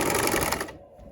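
A sewing machine stitches a sweatshirt seam in a quick rapid whirring run of needle strokes, close and clear, then stops abruptly partway through, leaving near quiet.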